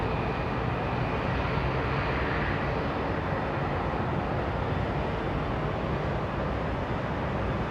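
Steady broadband roar of a jet airliner engine at London Heathrow Airport, continuous and fairly loud for the whole stretch with no voices.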